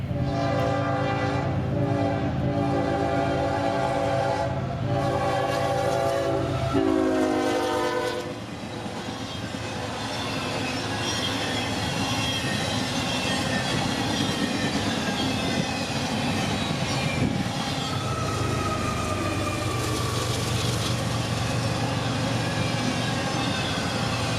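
A CSX Q032 freight train with distributed power units races through town, its loud horn sounding over steady rail noise before the rumbling, clattering roll of the cars carries on continuously up close.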